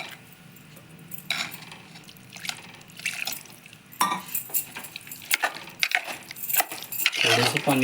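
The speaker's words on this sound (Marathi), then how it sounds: "थोडंसं पाणी घातलं" Water goes into a pan of mixed vegetable sabji, giving a short splashy pour, then dripping and clinking of a spoon against metal cookware, heard close at a modest level.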